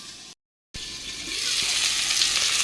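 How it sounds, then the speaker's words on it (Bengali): Potatoes and bitter gourd fry in oil in a pan in a home kitchen, a steady close hiss of sizzling that grows after a brief cut, with no talk over it. "এখানে আলু উচ্ছে ভাজা বসিয়ে দিয়েছি"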